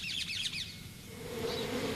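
Bees hum in a steady drone around huge hives at a temple in India, with brief high chirping bird calls early on; the buzz stays continuous and fairly close throughout.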